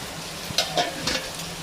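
Soft sizzling of something frying in a pan, with a few light scraping stirs, quiet and close, no voices.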